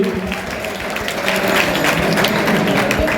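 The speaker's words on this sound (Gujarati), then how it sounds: "આપણે બધા તાળીઓ તો બનાવશું" An audience claps continuously and fairly loudly for a student being honoured at a Patidar community awards ceremony.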